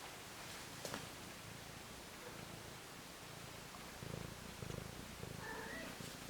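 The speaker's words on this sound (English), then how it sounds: "She's purring. Can you hear her purring?" A cat purring softly and steadily up close, a low continuous rumble with faint rustling in a quiet room.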